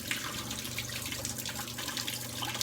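Hot water runs steadily from a tap into a basin while a shaving brush is wetted, a continuous soft hiss and splash at low level with no speech.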